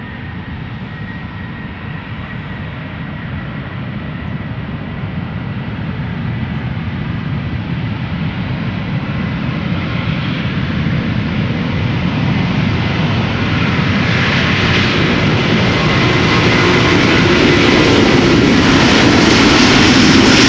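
A jet airplane at Schiphol Airport roars steadily nearby, its broad engine rumble and hiss swelling gradually louder over about twenty seconds, with no voices.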